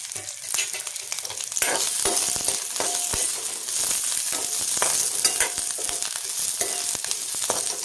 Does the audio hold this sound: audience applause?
no